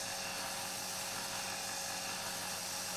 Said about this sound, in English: And back to the sander.